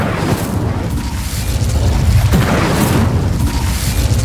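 Incendio fire spell cast in the game Hogwarts Legacy, giving a loud booming roar of flame that rumbles heavily and swells twice, with no voices over it.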